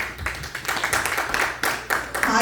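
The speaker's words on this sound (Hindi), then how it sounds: "तालियां बजाएं अपने लिए जोर से।" A church congregation at a Thanksgiving service claps loudly for themselves, a dense, uneven burst of many hands beating in quick, slightly pulsing rhythm, close and lively, with no talking over it.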